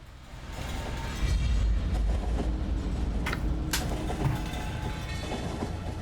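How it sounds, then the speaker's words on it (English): A train in the factory-building game Factorio rolls along with a steady, rumbling rail noise and faint clatter, running continuously for several seconds with no talking. "There's the train."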